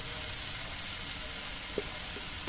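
Vegetables sizzle and fry in oil in a pan as turmeric and cumin powder are added, a quiet steady crackle with a brief stir or clink partway through.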